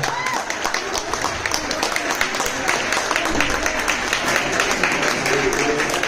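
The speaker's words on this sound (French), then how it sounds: "on les applaudit bien fort" An audience at a senior ballroom dance competition applauds the couples after the slow waltz, with crisp, rapid clapping running throughout at a steady level beneath a faint hum of crowd noise.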